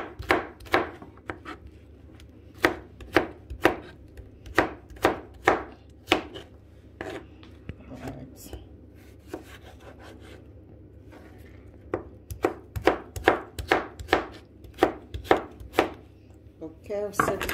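A knife chops celery on a cutting board for juice, sharp rapid knocks in quick bursts with short pauses, close and clear with no talking.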